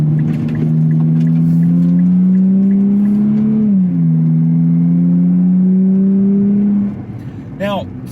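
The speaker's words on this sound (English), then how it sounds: "Sport does keep the engine pretty highly revved" Nissan Z Nismo engine held at high revs in Sport Plus mode, a loud, steady droning note that dips briefly mid-clip then climbs again before easing off near the end, with faint talk in the background.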